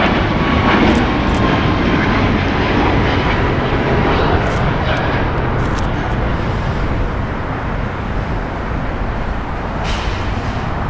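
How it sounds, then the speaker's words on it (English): Airbus A330 jet taking off from runway 25 left at LAX, a loud sustained engine roar with broadband rushing noise holding steady throughout. "It's an Airbus A330."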